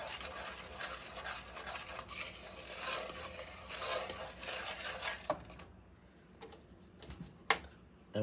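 Caramel icing being stirred in a pot, a steady scraping and swishing that runs for several seconds before thinning out to a few quieter clinks and taps.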